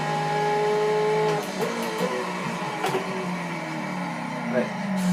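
A car brakes late on the Bugatti circuit at Le Mans, its engine note falling through downshifts with sharp gear changes and some tire noise, heard from close inside the car.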